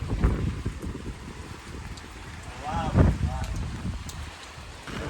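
Strong wind batters the microphone with a constant rumbling roar during heavy rain outdoors in flooded streets, and a person speaks under the gusts.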